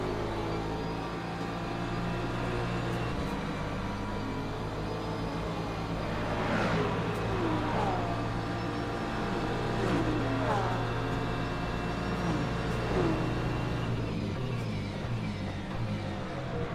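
GT3 race cars at Imola in the Le Mans Ultimate racing game, a steady engine drone with rising and falling revs and gear shifts as cars battle side by side, continuous and fairly loud throughout.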